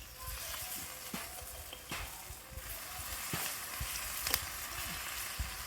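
Bangda mackerel fries on a banana leaf with a soft, continuous sizzle, punctuated by light scraping and tapping as the fish is turned over, heard fairly close and quiet.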